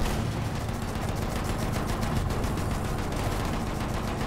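Sustained automatic weapon fire in the video game Battlefield 1, a fast even rattle of shots layered over low battle rumble, loud and unbroken for several seconds without speech.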